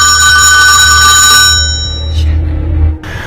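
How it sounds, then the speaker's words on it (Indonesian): In the film Trust, the mother's telephone rings loudly with a steady electronic trill that cuts off partway through, followed by dull low rumbling and a brief hiss. "telepon ibunya pun berdering dan si Charlie langsung menutup teleponnya."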